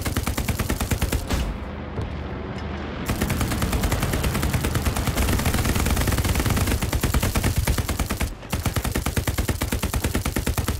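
Sustained rapid automatic gunfire in the WWII shooter Hell Let Loose, dense and loud throughout, with two brief gaps between long bursts and no talking.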